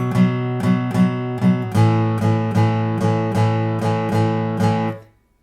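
Blues progression strummed on guitar, a steady sequence of clear rhythmic chords with ringing sustain, close and alone, the last chord ringing out before stopping.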